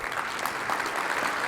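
A conference audience at a tech product keynote claps in dense, sustained applause that fills the whole short moment, even and fairly close, with no clear voices over it.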